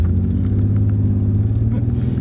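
A used car with a 200-horsepower engine accelerates in a steady, loud low rumble, heard from inside as the engine pulls, with a voice talking over it.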